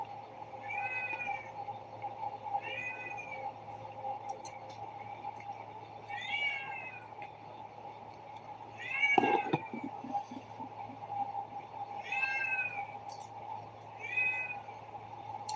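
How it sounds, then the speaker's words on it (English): A cat named Coachy gives a series of big, drawn-out meows, about seven spaced calls, close and fairly loud over a steady background hum. "Coachy's meowing with his big meow, as you can hear."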